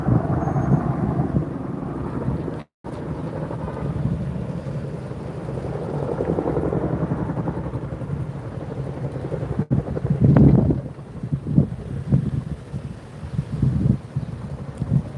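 Strong gusty wind buffeting the microphone outdoors near a wildfire in Los Lunas, a continuous low rumble that surges and eases with a couple of sharp dropouts, no voices.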